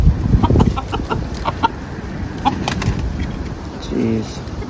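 A big rooster and a Silky Frizzle chicken scuffling on a farm, with clucking, flapping and agitated squawks, loud and close, and a short call near the end.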